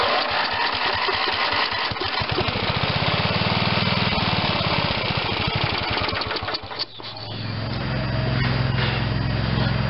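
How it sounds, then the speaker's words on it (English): A 1979 John Deere 111 lawn tractor with an 11 hp Briggs engine struggles at idle, its close, loud chugging turning uneven and briefly faltering before settling into a steadier running drone. "I'm just trying to get it to run at idle here, and it will not."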